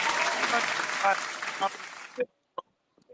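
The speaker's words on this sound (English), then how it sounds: "Let me go ahead and give everybody a round of applause." A round of applause during a live-streamed talk show, with clapping and a voice over it for about two seconds before it cuts off abruptly, leaving only a few faint stray sounds.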